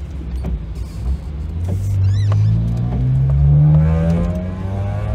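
A vehicle with a loud, faulty exhaust passes close by, its engine note rising and droning as it goes.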